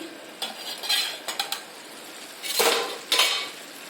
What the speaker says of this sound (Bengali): এখন ঢাকনাটা খুলিয়া দেখি।